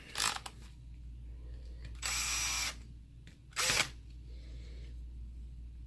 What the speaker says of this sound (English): I'll put these screws back in so that I don't get any crud in here.